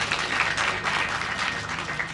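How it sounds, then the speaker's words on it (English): Audience applause at a live event announcing national exam results, a steady dense wash of clapping sustained evenly throughout with no pauses, moderately loud and filling the room. "Another round of applause,"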